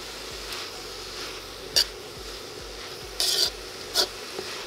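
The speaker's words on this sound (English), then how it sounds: "Saute it for another 2 or 3 minutes before adding our coconut milk" Cabbage stir fry sautés in a wok over high heat, a faint sizzle beneath several sharp metallic clanks and scrapes of a spatula against the wok.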